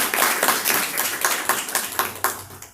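An audience in a university lecture hall claps to welcome a speaker, a brief burst of dense, rhythmic applause from many hands, close and fairly loud, fading at the end.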